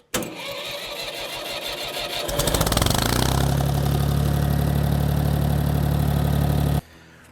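Tractor engine after a distributor tune-up cranks briefly, catches, and settles into a loud steady idle for several seconds before cutting off abruptly, close by with no talk.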